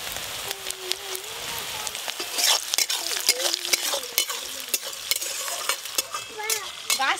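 Sliced onions sauté with a little salt in a pan for a spicy Bengali fish curry. There is a continuous sizzle and repeated scraping strokes of a stirring spoon, close and steady, with no talking.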